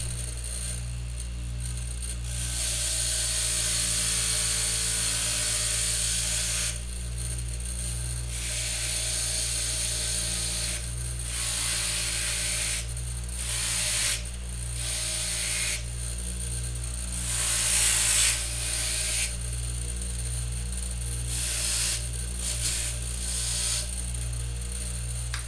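A key cutting machine's grinder copying a key, running with a steady electric hum and whine broken by grinding passes and short pauses, continuous and fairly close.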